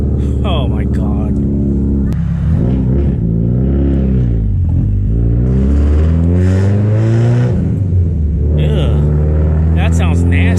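A Subaru STI fitted with a Tomei exhaust and a big turbo drives slowly, its loud, raspy exhaust note droning and rising and falling in pitch throughout, with people talking over it.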